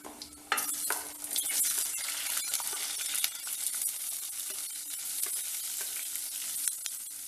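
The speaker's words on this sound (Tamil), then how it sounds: "அதில் ஜீரகம் மட்டும் தாளிக்க போடுவோம்" Cumin seeds tempering in two tablespoons of sesame oil in a pan give a steady, close sizzle and crackle, with occasional light clinks of a spoon stirring and no voices.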